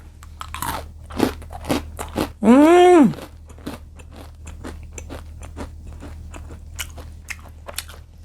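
Round, crunchy macaron shells are bitten and chewed up close, a run of sharp crackling crunches, with a brief loud rising-and-falling whine cutting in midway and no speech.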